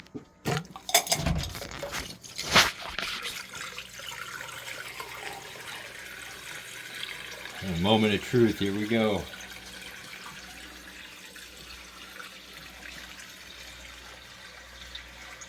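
Bucket of aquarium water draining through a homemade pipe and valve, a running trickle and gurgle under early clatter, with a brief rushing surge midway, and someone speaking briefly.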